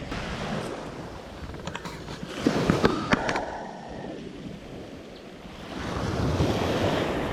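Wind gusts buffet the microphone while shallow waves wash onto the seashore during coastal squid fishing, a continuous roar that swells and eases with a louder surge near the end.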